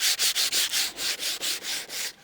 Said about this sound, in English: When you're sanding something, you're not even sanding away a millimetre